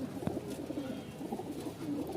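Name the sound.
pigeons cooing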